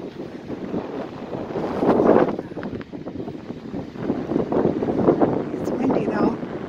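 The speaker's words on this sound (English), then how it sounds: "It's windy though, very windy." Strong wind buffets the microphone in gusts on a waterside crossing, a loud broadband rush that swells and eases throughout, with a boat's engine droning underneath.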